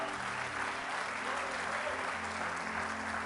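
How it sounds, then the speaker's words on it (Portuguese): A church congregation applauds in sustained, dense clapping that fills the room steadily from start to finish, with a faint murmur of voices underneath. "Aplauda o Senhor Jesus por isso."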